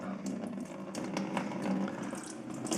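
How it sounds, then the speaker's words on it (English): Water from a Ford Model A water pump pours steadily into a bucket, a continuous close splashing trickle with no talk. "You will see the water come out."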